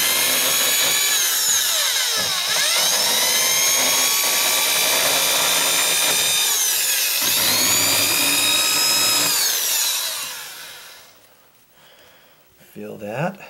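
A rotary power tool grinds burrs off the sharp edge of a metal door strike, a loud continuous whine with shifting pitch sweeps for about ten seconds, then cuts off, leaving faint handling noise and a brief voice near the end.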